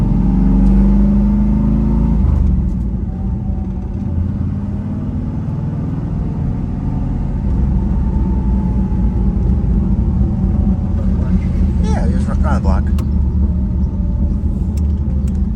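A 1979 Pontiac Trans Am's 301 V8 rumbles loudly and steadily through a new Magnaflow exhaust with a deep throaty note, settling from a heavier rev into a constant drone; a voice speaks briefly.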